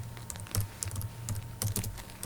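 Notes are typed on a computer keyboard into hospital appointment software, with soft, irregular keystrokes clicking in quick clusters at close range in a quiet room.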